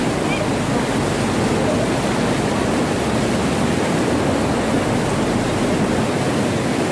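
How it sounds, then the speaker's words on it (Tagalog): A steady, loud rush of river water fills the whole clip, a constant broadband roar of fast current over rocks with no breaks, near Aurora Falls in the Philippines. "Ito ang current."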